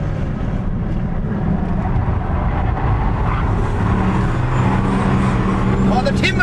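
A turbocharged race car drives hard on a track, its engine a steady, close roar that holds throughout while someone talks over it.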